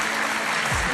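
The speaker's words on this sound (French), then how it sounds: "On peut applaudir Charlet Soignon parce que c'est pas facile" A studio audience applauding during a French TV comedy show, a brief, dense burst of clapping.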